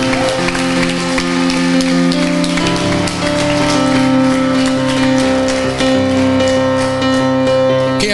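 A church congregation claps together, a dense patter of many hands running steadily for several seconds over sustained organ or keyboard chords filling the room.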